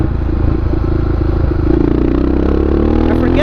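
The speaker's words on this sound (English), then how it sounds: "this bike is just pure fun in supermoto trim" A supermoto motorcycle is ridden at close range, its engine droning loudly and steadily and rising slightly in pitch toward the end under continuous wind rush.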